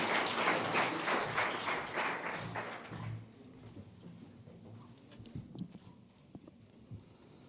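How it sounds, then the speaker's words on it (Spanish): Lecture-hall audience applauding a history professor at a historical society event in Mexico, a dense burst of clapping for about three seconds that fades into scattered claps and quiet room noise. "Pido un aplauso para el maestro profesor Arturo Delgado Moya."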